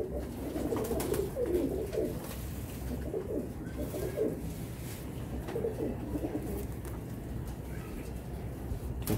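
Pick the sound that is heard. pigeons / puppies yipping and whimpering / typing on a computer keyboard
pigeons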